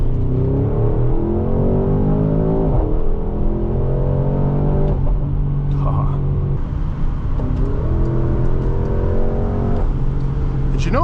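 A 2022 Porsche Cayenne GTS Coupe engine heard from inside the cabin, revving hard in repeated rising sweeps with brief dips at each gear change, a loud, deep, continuous roar.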